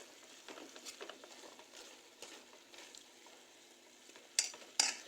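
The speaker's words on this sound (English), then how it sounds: "And just stir it around." Chicken chow mein with pak choy being stirred in a pan, with a faint, soft sizzle, scattered scraping strokes and two sharper utensil clinks near the end, and no voices.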